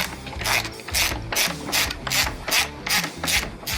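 A hand ratchet loosening the fairing bolts on a Harley-Davidson Street Glide, giving a steady series of rapid clicking pawl bursts repeated in even strokes, close and clear, with no talking.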